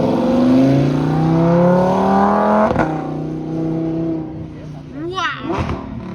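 A McLaren Senna GTR track car at a New Jersey cars and coffee meet revs loudly with rising engine tones that fade, followed by a sharp bang and a few more revving bursts. People talk over it throughout.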